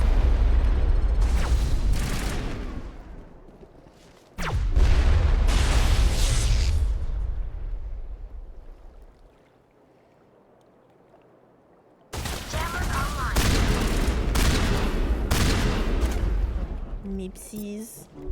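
Gunfire and explosions from the video game Mass Effect, with heavy booming blasts and rapid shots in loud sustained bursts. A quieter lull falls in the middle, then another loud barrage, and voices come through at times.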